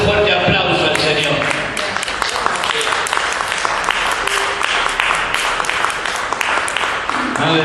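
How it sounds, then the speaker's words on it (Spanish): A church congregation applauds loudly and steadily throughout, with dense overlapping claps mixed with voices and cheers from the worshippers. "Dale un fuerte aplauso al Señor."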